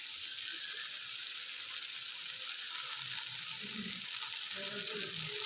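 Yogurt, already whisked smooth and creamy, goes into a hot pan where it sizzles and fries with a steady broadband hiss that runs the whole time, with soft low clinks and stirring bumps near the end.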